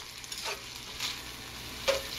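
Three Cups Chicken sauce with basil leaves sizzling and bubbling in a hot pan as it boils down, a steady soft fry with a few louder crackling bursts, close by and without voices.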